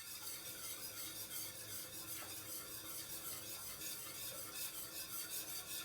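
A spoon scrapes and rubs steadily as thickening gram flour kadhi, Gujarati style with Kashmiri chilli powder, is stirred in a pan. The sound is a quiet, continuous rasp close by.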